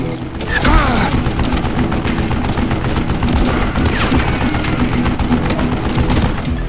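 Gunfire in the Western shooter Call of Juarez: Gunslinger, a dense, continuous barrage of loud shots and booms running throughout without a break.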